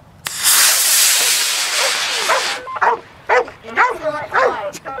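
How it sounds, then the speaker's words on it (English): A dog barks at a model rocket launch: a loud, broad rocket roar fills the first half, then several sharp, close barks or yips follow amid people talking. "One bark per launch would be good."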